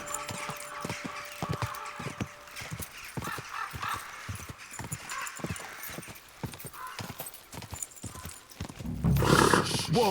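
Horse hooves clip-clop at a steady walking rhythm while riding through the medieval world of Kingdom Come: Deliverance II, close and moderately loud, with a brief burst of clatter near the end.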